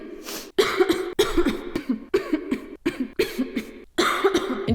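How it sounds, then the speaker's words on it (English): Harsh, close coughing from a person with a sinus cold, about eight rapid bursts in a row with short gasping pauses between them and no speech. "I've been coughing throughout the filming of this whole video."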